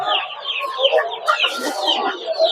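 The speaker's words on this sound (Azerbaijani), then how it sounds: "Sonra burada qazlarımız var." Geese and chickens at the Sabunçu poultry market in Azerbaijan keep up a steady, dense run of clucking and cackling, close and fairly loud, with no pause across the whole stretch.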